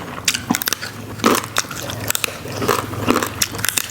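Crisp, crunchy pea eggplants bitten and chewed close up, served raw alongside shrimp paste chili dip and fried mackerel; several sharp bites and crunching chews repeat irregularly, fairly loud, with no talking.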